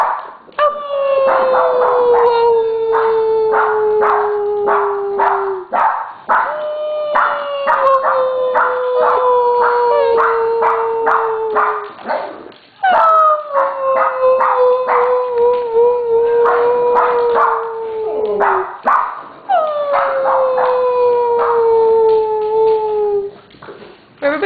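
Several dogs, among them Presto, Aspen, Simba and Pee-wee, howl together in long, loud sustained wails that rise and sag in repeated waves, with barks and yips mixed in and a person joining in by imitating the howl.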